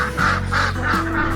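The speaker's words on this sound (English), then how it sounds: "Look at all these birds!" Birds on a homestead give a series of repeated calls, roughly evenly spaced, over a steady low hum.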